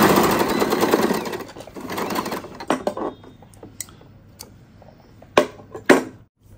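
A domestic sewing machine runs in a fast burst of stitching for the first few seconds, then stops; scattered clicks and handling knocks follow in a quiet room.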